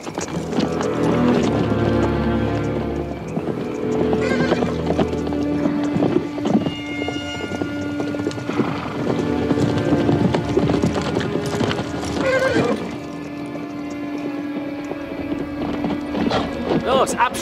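Horse hooves clatter steadily amid repeated neighing and whinnying, with people talking and shouting over the commotion.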